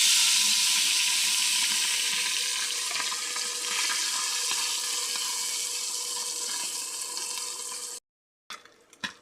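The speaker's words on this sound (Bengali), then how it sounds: "তেল দিয়ে দিচ্ছি, গরম হয়ে গেছে। এবার মাছগুলো দিয়ে দেবো।" Fish frying in hot oil in a pan, a loud steady close sizzle lasting several seconds before cutting out, followed by a few brief clatters.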